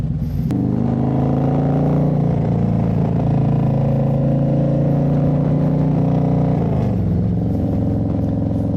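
A Harley-Davidson motorcycle with a 107 engine on a Stage II upgrade, running while being ridden, its loud steady rumbling drone close up, with a throttle change shifting the pitch near the end.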